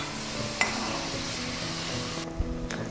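Brinjal (eggplant) frying in a pan for a curd and coconut curry, a steady soft sizzle with a couple of light clinks of utensil against the pan, no talking.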